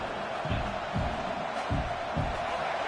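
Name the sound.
stadium crowd roaring during fourth down at Texas vs Notre Dame football game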